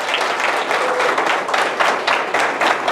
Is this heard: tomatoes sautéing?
no